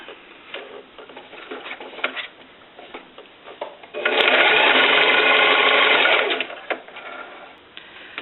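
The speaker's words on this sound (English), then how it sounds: "And then I'm going to sew down the other side." A sewing machine runs down the side of a fabric clutch in a loud, steady two-second burst of rapid stitching, with quieter handling rustles and taps before and after it.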